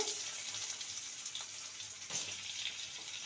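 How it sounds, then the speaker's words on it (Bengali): Diced potatoes fry in hot oil in a wok, giving a steady, close hiss of sizzling with faint crackles throughout, no voices over it. "কড়াইতে যে তেল ছিল সেই তেলে আমি আলু নিয়েছি একটু ডুমো ডুমো করে আলু কেটে নিয়েছি আলুটাকে ভেজে নেব"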